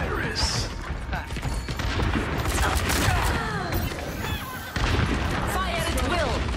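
A deployed turret fires repeatedly in an Overwatch match, a steady rattle of shots through dense, busy game combat with booms and mechanical clatter, while voices talk over the action.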